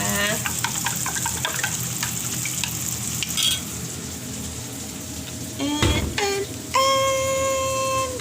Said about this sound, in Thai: ทำไข่เจียวคุณป๋านะคะ อันนี้ไข่เจียวนะคะ